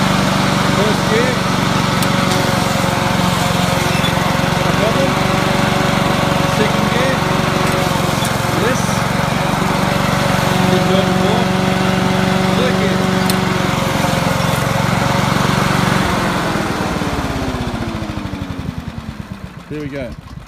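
A Honda HRU216 self-propelled lawn mower engine runs steadily and loudly up close, then winds down toward the end.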